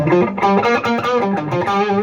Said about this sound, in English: You got distortion. It sounds great, right?